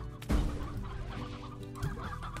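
Chicken clucking in the Slime Rancher video game: a couple of short, soft clucks at moderate distance over a low ambient game backdrop, with no talk.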